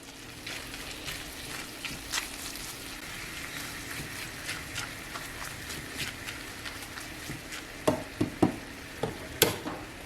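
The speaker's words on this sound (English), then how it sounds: "And then add however much hot sauce you want. And then just stir it together real good." Hot sauce mixture is stirred in a pan on the stove, a low steady sizzle with scattered scraping and tapping of the utensil against the pan, growing sharper near the end, with no talk.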